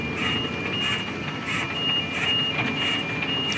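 A mobile jaw crusher's feeder alarm sounds as a series of high, evenly spaced beeps over a constant machinery rumble.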